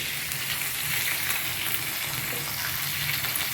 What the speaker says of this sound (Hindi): बस थोड़ा सा करी पात भी डाल लेंगे, 4 हरी मिर्च।